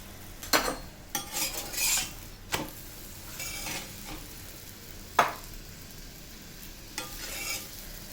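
Broccoli paratha frying in oil on a pan, a low steady sizzle broken by several sharp scraping and tapping knocks of a spatula against the pan, with no talk.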